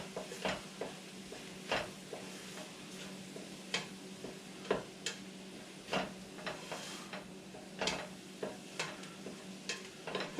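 Flour being stirred into a gumbo roux in a pot, with a steady soft scraping and light sizzle broken by repeated clicking spoon strikes against the pot, close and moderately loud, no talking.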